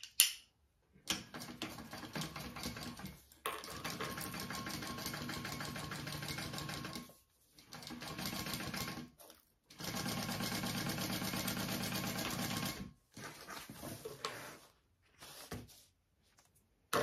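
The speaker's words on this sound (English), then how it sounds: "I'm going to be sewing those two together up here at the top" A sewing machine stitches a handbag's pocket piece to its top panel in several steady bursts of a few seconds each, separated by short pauses, fairly loud and close with no talking.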